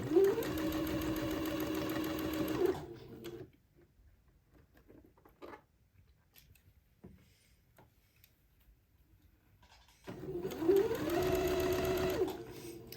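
A sewing machine runs a seam on the sleeve of a baby day dress with insertion lace, two loud steady bursts of rapid stitching separated by a quiet pause filled with faint handling noises.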